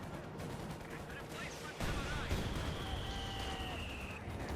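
A Company of Heroes 2 1v1 match between Wehrmacht and Soviet forces, with grenades and gunfire sounding as dull booms and crackling shots in the battle mix, followed by a sharper blast near the midpoint, all at moderate volume under a caster's voice.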